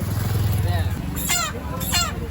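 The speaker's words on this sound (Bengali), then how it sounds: "আগে মুরগির দোকানে যাবো, সৌরভ মুরগির দোকানে যা।" Chickens at a roadside chicken shop in a market give two short, shrill crowing squawks over a low engine rumble and background voices.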